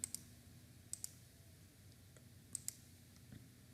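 Sharp mouse clicks in close pairs, about three double-clicks spaced across a quiet room with a low background hum, while someone works through a Jira project board.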